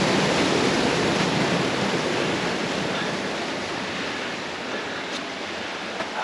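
A waterfall pours into a pool inside a Utah slot canyon, a steady broadband rushing roar that stays loud and unbroken throughout with no voices.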